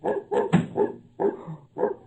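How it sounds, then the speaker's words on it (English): A dog barks in a series of about five sharp, close barks with short gaps between them, with no voices. "Oh, the dog."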